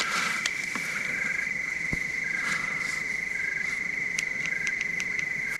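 Crickets and other insects trill loudly at night at a campsite, a constant high-pitched drone close by, broken by a few sharp chirps and small rustling clicks.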